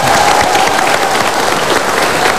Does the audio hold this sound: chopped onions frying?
no